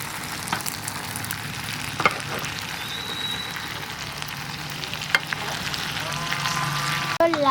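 Masala chicken fries in a pan with a continuous loud sizzle, while a utensil stirs it with a couple of sharp scrapes and clinks against the metal.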